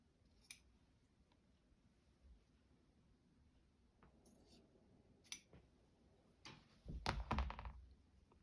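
A pair of scissors snips through silk fabric in a few quiet, separate cuts, then gives a louder cluster of crisp snips near the end, with no talk over them.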